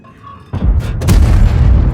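Tank cannon firing in a tank video game, one sudden heavy boom followed by a loud, rumbling blast that sustains to the end.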